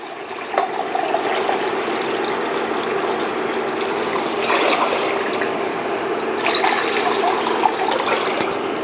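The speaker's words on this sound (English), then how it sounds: "Now I'm gonna add in 5 cups of water." Five cups of water pour steadily into a pot of borscht already holding beef broth, a continuous splashing gush lasting several seconds with no talking.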